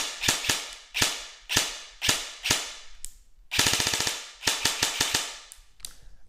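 A Lancer Tactical starter airsoft gun on an 11.1 battery fires sharp, snappy shots: single shots in a steady rhythm, then a quick rapid burst, then more singles, close and clear with no talking.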